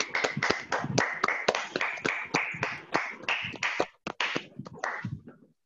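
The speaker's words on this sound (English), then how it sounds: "Everybody unmute your mics and a big round of applause for both the teams." Clapping from online debate participants with unmuted mics, a handful of separate hands producing sharp, uneven claps and taps that overlap, then thin out and stop near the end.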